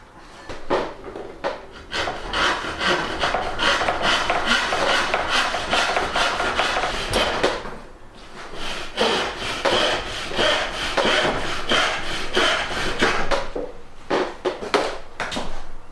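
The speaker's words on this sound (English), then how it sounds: "And finally with my Irwin Jack floorboard saw." An Irwin Jack floorboard hand saw cuts through MDF in steady, rhythmic rasping strokes, close and loud, with a brief pause partway before the sawing resumes.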